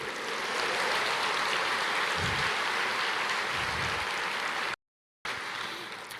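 A church congregation applauds during a sermon, a steady wash of clapping that carries on for several seconds before cutting out briefly and resuming.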